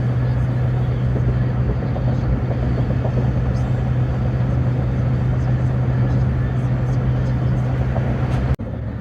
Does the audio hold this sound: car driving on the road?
yes